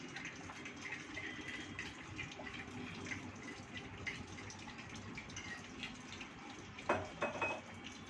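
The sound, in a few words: water being poured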